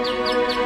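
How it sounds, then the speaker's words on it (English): Heron of Alexandria's ancient mechanical singing bird, a cog, rope and pulley automaton worked by turning a wheel, gives three evenly spaced falling chirps over a steady whistling tone, close and clear with no talking. "Inside the mechanism, a series of cogs, ropes, and pulleys made the bird sing when the wheel was turned."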